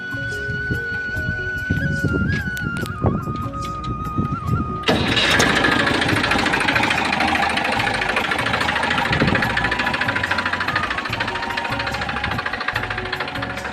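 A 2011 Massey Ferguson 241 DI tractor engine cranks and fires up, then settles into a loud, steady diesel clatter running close by without pause.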